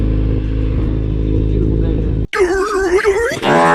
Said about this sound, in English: I am on a naked motorcycle in the middle of winter